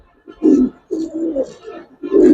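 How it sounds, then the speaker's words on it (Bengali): Silver and racer pigeons coo close by in repeated low throaty phrases, three soft rolling calls in quick succession. "ভাই এখানে 4 পেয়ার কবুতর।"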